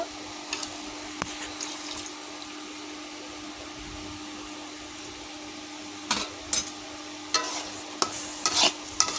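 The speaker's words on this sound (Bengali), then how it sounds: "এবার ভালো করে নেড়ে দেবো" Carrot halwa being stirred in a pan after powdered milk mixed in cold water is added, with steady soft scraping and a few sharper clinks of the spoon against the pan toward the end.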